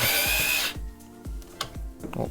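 A Bosch GO3 or Vessel cordless power screwdriver whines loudly as it spins at speed, then stops, followed by several short bursts of knocking and grinding.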